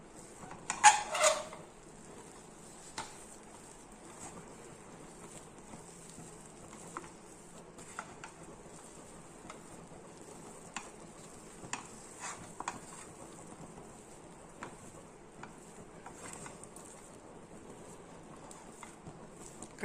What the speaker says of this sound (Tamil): நல்லா கட்டி விடாமல் கிளறிடுங்க